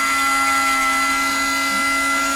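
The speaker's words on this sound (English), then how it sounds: "we're going to just lightly drill off the top of this, or grind it off" A power drill or grinder lightly takes the top off a Dinky toy Rolls Royce die-cast part, making a steady, loud, high-pitched whine that runs unbroken and close, with no talk.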